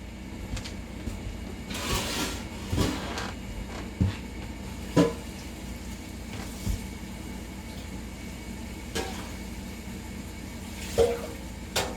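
Water is tipped from a pot lid into a pan of thickening sauce for country ham, making scattered quiet splashes and trickles that rise now and then over a low kitchen background.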